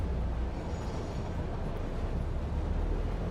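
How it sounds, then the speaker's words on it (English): A compacted coal train rolls past in the factory-building video game Satisfactory, giving a steady, fairly loud low rumble with a broad mechanical wash and no speech. "Oh, that's the compacted coal train."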